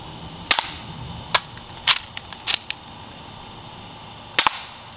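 Crosman Marksman pistol firing BBs, darts and pellets: five or six sharp close cracks at irregular intervals, some with quick double snaps, over a quiet background hiss.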